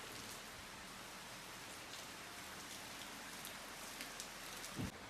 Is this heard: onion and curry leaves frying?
no